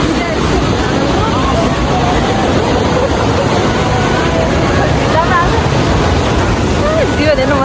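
A loud, continuous roar of rushing water and spray close by at Lauke waterfall in Nuwakot near Kathmandu, steady throughout, with faint voices mixed in beneath it.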